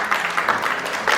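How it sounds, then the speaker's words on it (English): Audience applause for three volunteers at a magic show, a short burst of dense clapping heard close and fairly loud, steady throughout with no voices over it. "Give them all three a round of applause."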